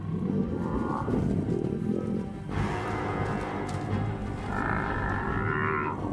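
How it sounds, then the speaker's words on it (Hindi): A herd of wild African buffalo charges at lions in the Sabi Sand bush, heard as a continuous loud rumble of low bellowing, trampling and dust-thick noise with no talking over it. "जब भैंसे हमला करते हैं तो लगता है जैसे वो सामने खड़ी बड़ी से बड़ी दीवार भी गिरा देंगे"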